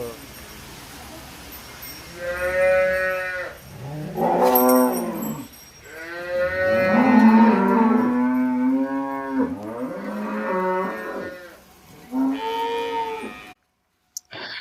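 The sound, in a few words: cows mooing at a cattle shed in Bihar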